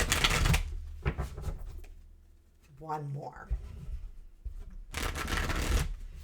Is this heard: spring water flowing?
no